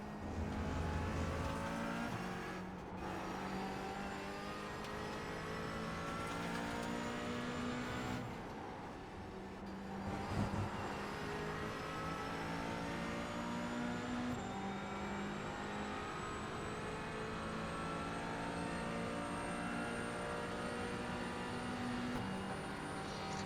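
Multiclass race car engines roar in iRacing at Le Mans, a continuous loud drone with rising pitch sweeps as the car accelerates and shifts through gears, with other cars passing.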